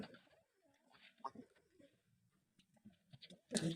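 Soft, low coos of fancy pigeons on a pigeon farm repeat at close range, with a brief rustle or flutter at the end.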